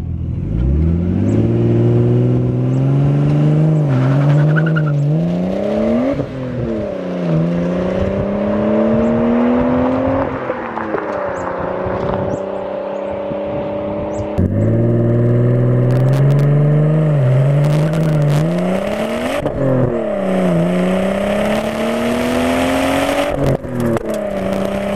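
Nissan Skyline R33 GTS25T engine under way, a steady loud drone rising through repeated gear pulls with brief dips between shifts, continuous and close, no talk.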